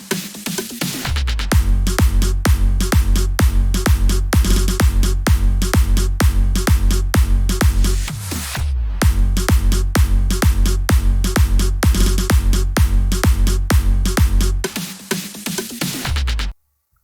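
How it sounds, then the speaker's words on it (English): A thumping kick and drum loop from an electronic dubstep drop plays steadily and loud for the whole stretch, with a brief dip and fill midway and no talking. "So if we play just the drums and the kick"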